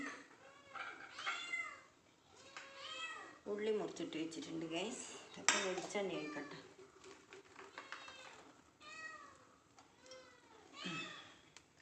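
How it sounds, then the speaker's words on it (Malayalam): Cats meow repeatedly, some cries drawn out and whiny, while a person talks nearby over them. "പൂച്ചകൾ കരഞ്ഞുകൊണ്ടേ ഇരിക്കുന്നുണ്ട് മീനിൻ്റെ മണം കൊണ്ട്"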